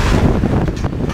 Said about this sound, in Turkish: ama ne rüzgar var burada arkadaşlar.